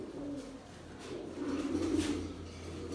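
A Kaldum pigeon in a breeding room gives soft, low, rolling coos, two phrases close by and fairly quiet, with no talking.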